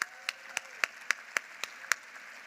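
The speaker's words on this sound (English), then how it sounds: "Can we have a round of applause for these members?" A small scattering of hand claps from a breakfast audience honoring downtown council members, about eight sharp separate claps at a fairly even pace, thin and somewhat distant rather than a full roar of applause.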